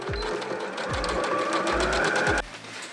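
A sewing machine stitches a seam on an oversized shirt with a back slit, its rapid motor whir running steadily and close up, broken by a few soft thumps before it stops near the end.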